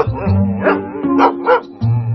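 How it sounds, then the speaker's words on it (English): A Doberman barks in a loud, close run of four or five rough woofs at a local dog show, used as a dramatic effect in a book fair trailer. "a crazy Doberman leaps on stage at the local dog show"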